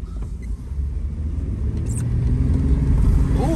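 A vehicle engine runs in a steady low rumble that slowly builds in loudness across the stretch, heard up close with a few faint background noises on top.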